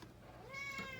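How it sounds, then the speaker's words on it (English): A cat meows once in a single rising then falling call, close and fairly clear over low background noise, heard indoors during a pressure washer steel tube cleaning job. "Don't mind the cat."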